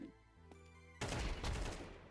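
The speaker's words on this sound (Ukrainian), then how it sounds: "по мені стріляють, промахуються" A sudden burst of rapid gunfire in Counter-Strike 2 erupts after a quiet second and keeps rattling, dense and loud, with no talking.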